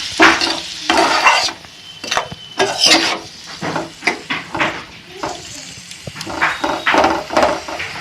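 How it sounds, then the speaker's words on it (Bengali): Spice paste with tomato fried slowly in a pan, stirred in loud, uneven bursts of scraping and clattering against the metal, with a gentle sizzle underneath and brief pauses between strokes. "আমি এই মশলাটা সব রকম দিয়ে কষিয়ে নিচ্ছি আস্তে আস্তে সব কষাবো যাতে সিদ্ধ হয়ে যায়"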